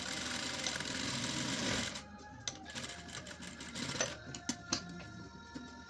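A home sewing machine stitches a pocket seam on a salwar, its buzzing run loud and steady for about two seconds before breaking into shorter, uneven bursts with brief pauses.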